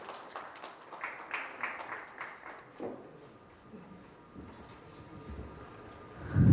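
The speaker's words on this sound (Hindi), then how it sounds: "तो एक बार जोरदार तालियों के साथ let's welcome Mr. Bhadresh Shah ji on the podium" An audience at a property expo press conference claps to welcome a speaker to the podium. The applause comes in irregular bursts that fade out, and a loud thump follows at the end.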